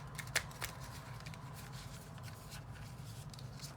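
Tarot cards are shuffled close by in a quiet room, giving soft papery riffles and sharp flicks, with one clear snap near the start and lighter shuffling afterward, with no talking.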